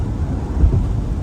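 Rain falling on a van, heard as a steady dense wash with a deep low rumble like thunder, continuous and fairly loud for the brief moment, with no talking.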